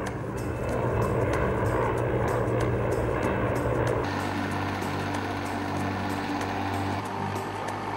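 A CH-53 helicopter carrying an underslung Crayler FLG field loader roars steadily overhead, a dense continuous engine and rotor drone with a rhythmic chopping pulse, loud and unbroken with no voices.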